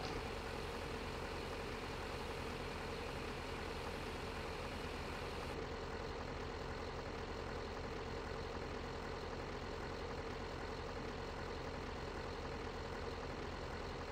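A John Deere vehicle idles while unloading in the Farming Simulator video game, a steady low engine drone running unchanged throughout, moderately loud with no voices.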